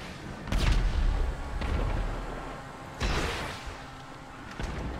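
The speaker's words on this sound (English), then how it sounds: "The missile barrage already." A rocket missile barrage pounds the area in the video game GTA 5, with heavy explosive booms striking at irregular intervals. Each blast is followed by a rumbling decay, and the barrage carries no talk.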